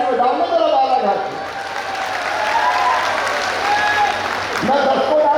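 A large crowd applauds loudly and continuously at a political bhoomi-pujan gathering in Balaghat, with voices and cheers mixed into the sustained clapping.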